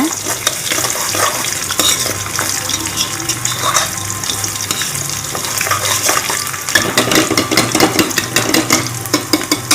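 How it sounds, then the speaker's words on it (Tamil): Curry leaves and chopped green chillies sauté in hot oil with a steady, close sizzle and frequent stirring scrapes throughout, no talking. "இப்போது கருவேப்பிலையும் நறுக்கி வச்சுருக்கிற பச்சை மிளகாயும் சேர்த்துக்கோங்க. இப்போது அதோட எசன்ஸ் வந்து நல்லா எண்ணெயில் இறங்கணும். அது வரைக்கும் கொஞ்சம் நல்லா வதக்கிக்கோங்க."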